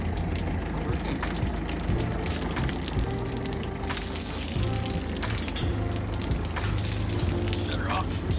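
A sailboat engine's transmission cooling system draws in water, a gurgling, sloshing trickle with a low engine drone underneath and a brief splashy burst midway, with talk over it.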